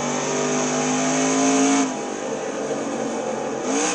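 Race car engine in a Le Mans racing video game, holding a high steady drone, then dropping sharply in pitch as it downshifts from sixth to fourth gear, with a second drop near the end.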